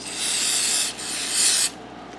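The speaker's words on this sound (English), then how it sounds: "So I've got some carb cleaner here." Carb cleaner sprays onto a Westinghouse generator carburetor part in two close, loud hissing bursts, with a brief gap between them and quiet after the second stops.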